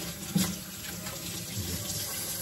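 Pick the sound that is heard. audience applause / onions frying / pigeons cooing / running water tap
running water tap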